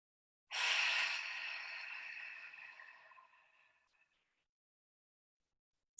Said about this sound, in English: We're going to take 1 more beautiful breath together.